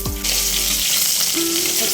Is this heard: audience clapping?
no